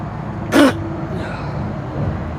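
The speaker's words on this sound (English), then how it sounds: "Whoa, I gotta sneeze." A single short sneeze-like burst, close and fairly loud, bursts out against a quiet indoor background, with no talking around it.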